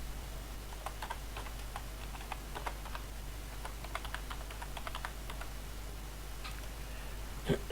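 Light, crisp taps on a computer keyboard entering a password, close and sparse with irregular spacing over a faint steady hum, no one speaking.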